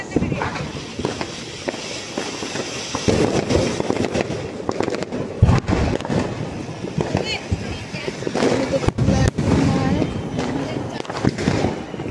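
Diwali fireworks going off at a family celebration: a dense, continuous crackle and scattered sharp pops that carry on throughout, with people talking and moving close by.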